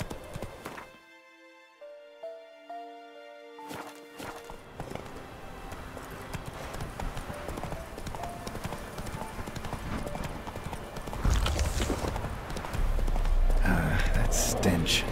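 Horse hooves clip-clop on the ground in the video game The Witcher 3, a rapid rhythmic gait beneath game music and a voice, growing louder with wind and movement toward the end.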